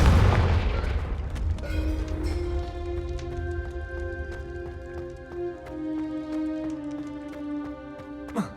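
Fiery blast of the Confringo spell in the video game Hogwarts Legacy, an opening boom followed by a lingering tonal hum and scattered sharp clicks, fairly loud throughout with no talk.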